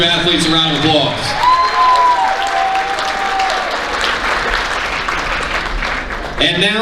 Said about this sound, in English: Let's give these 2 athletes a round of applause.